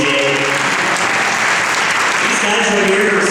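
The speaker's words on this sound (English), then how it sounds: "please, like a special round of applause for our stunt guys here" Audience at a fan convention stage show applauds the stunt performers, a dense, sustained wash of clapping and cheering that holds steady throughout, with voices rising over it.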